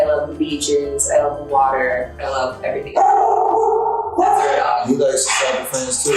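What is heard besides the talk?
dog barking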